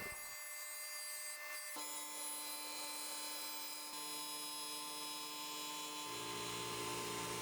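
A table saw with its blade raised to maximum height runs a crosscut sled through a cut, giving a loud, steady whining drone that shifts slightly in pitch as the cut progresses, heard close with no talking.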